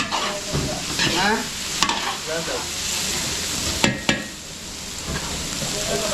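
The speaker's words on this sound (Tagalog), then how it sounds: "Gigisa natin sa patis ng Belly." Goat meat being sautéed with fish sauce in a pan, a steady stirring sizzle with scraping strokes and a couple of sharp clatters, continuous and close, with a brief voice over it.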